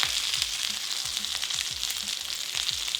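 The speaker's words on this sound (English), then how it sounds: "we'll just sear these for a few minutes until that skin is nice and crispy" Chicken confit pieces searing skin-side down in a hot pan, a loud, dense, continuous sizzle and crackle, close up with no talking.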